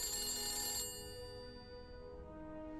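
A telephone rings once in the horror video game The Beast Inside, a bright, fairly loud electronic trill lasting under a second and then cutting off, with quiet room tone after.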